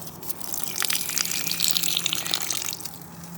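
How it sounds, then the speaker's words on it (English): An outdoor garden faucet gushes water in a steady close rush that swells in the middle and eases slightly toward the end, with no voices. "Down here is the faucet. And it's got water right now."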